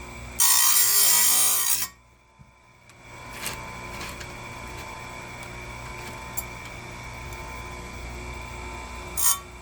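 A Powerfist chainsaw sharpener grinds a Stihl MS250 chain in a loud, harsh burst lasting about two seconds, then falls to a quiet whirring hum with faint scrapes and a short final grinding touch.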